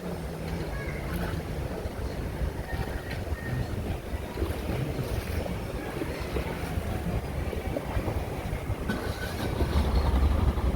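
A fishing boat's engine runs steadily after a clogged start, giving a constant low rumble mixed with wind and water noise outdoors, with no pauses across the stretch.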